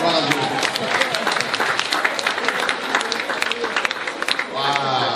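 A church congregation in Guadeloupe claps and cheers in sustained, dense applause that fills the room, with voices calling out amid the clapping.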